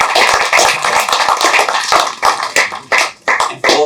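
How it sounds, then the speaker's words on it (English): An audience claps loudly for university president LaBrent Chrite at a live interview, a dense burst of applause that thins into scattered separate claps near the end. "Please give him a round of applause."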